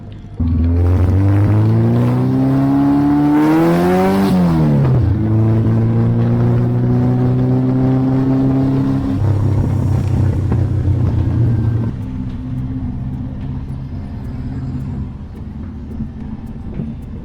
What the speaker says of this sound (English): It has a 356 engine, which is a race engine, so it's been cammed up.